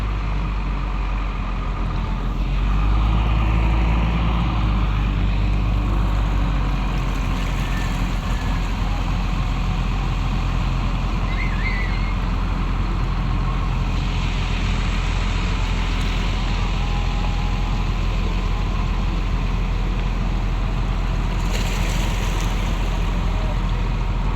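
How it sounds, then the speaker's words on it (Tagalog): A small fishing boat's engine runs steadily at sea under a heavy load of cargo, a loud continuous low drone with wind and water noise over it, unbroken for the whole stretch. "Medyo mahina lang ang takbo ng bangka mga idol"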